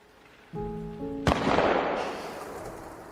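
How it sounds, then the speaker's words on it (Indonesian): A single sharp gunshot cracks over a soft held musical tone, followed by a long, hissing reverberant decay. "Terdengar bunyi tembakan"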